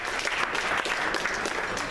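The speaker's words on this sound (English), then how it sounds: "Let's give him a round of applause as well." A festival crowd claps steadily and continuously, a dense wash of many hands applauding throughout with no voices standing out.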